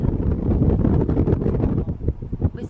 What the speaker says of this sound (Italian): ho chiuso il finestrino perché c'è troppo vento